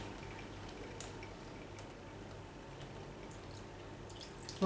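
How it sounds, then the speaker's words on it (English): Water draining from a PC water cooling loop during a block swap, heard as a steady, faint trickle with scattered drips throughout, close and without talk. "we're just draining the water."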